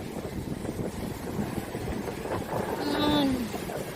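Strong wind on a beach on Egypt's north coast roars steadily across the microphone in a constant rushing wash, with a brief whining tone rising near the end.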